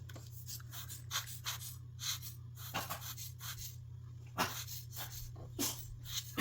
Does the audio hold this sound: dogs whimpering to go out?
yes